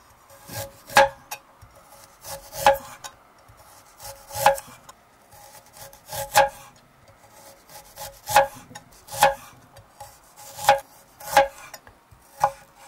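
A knife slices peeled ginger into thin strips on a wooden board. About a dozen separate crisp cuts fall at an even pace, close and clear, with no talking.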